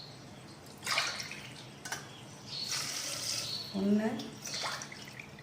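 Rice in a pot gets water poured over it from a tumbler, giving brief gushes and trickles broken up by someone talking.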